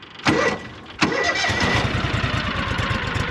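A John Deere Gator 6X4 utility vehicle, sitting unused since 2014, cranks twice and catches, then settles into a steady, close, loud idle with a rhythmic chug.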